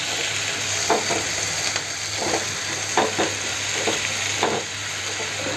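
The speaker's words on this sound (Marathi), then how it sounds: "मी छोटे एकदम मीडियम हे 2 कांदे चिरून घेतो, ते कांदे घालते। हे चांगला पण परतून घ्यायचं आहे।" Two medium chopped onions sautéing in hot oil in a pan for a spiced cabbage dish, a steady close sizzle broken by a few soft stirring scrapes.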